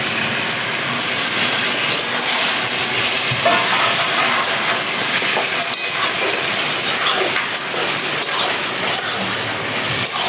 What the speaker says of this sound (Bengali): আলুর সাথে মশলাটা কষানোর জন্য অল্প একটু জল দেব